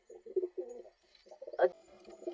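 Soft cooing from black pigeons with feathered feet in short bursts, close by, with a brief louder flutter-like rustle midway and faint background noise.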